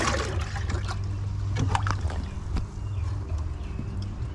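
An old cast iron pan is lowered into a water bath for electrolysis rust removal, giving faint sloshing and dribbling splashes with a few clanks against the container, close by and without speech.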